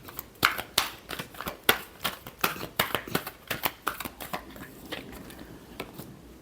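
Tarot cards being shuffled by hand during a reading, a quick run of crisp riffling flicks and slaps close up, about twenty sharp card sounds in uneven bursts with no talking.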